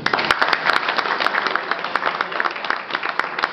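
Applause from members at a general assembly meeting, a brisk, dense clapping crowd heard up close and loud throughout, with no voices over it.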